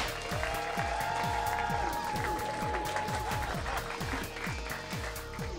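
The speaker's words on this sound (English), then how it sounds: "Let's get the applause going." Audience applauding a comedian on stage, dense rapid clapping filling the space steadily and loudly throughout.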